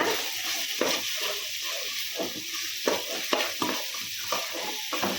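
Onions and dried chillies fry in a pan for a home meat curry feast, a steady sizzle broken by repeated scraping stirs of a utensil at close range, with no talk.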